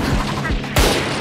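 Gunfire in a video game featuring Jett: a rapid burst of loud, sharp shots in quick succession, close and dense, with one harder blast partway through.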